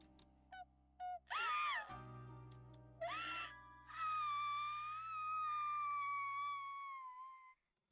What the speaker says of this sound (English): she began to scream